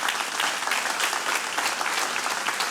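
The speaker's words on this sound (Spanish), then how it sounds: "Un fuerte aplauso al Señor." Church congregation applauding loudly, a thick, even burst of many hands clapping at once that holds steady throughout.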